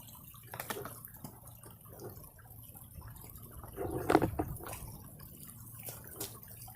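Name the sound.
pressure washer hose tossed into river water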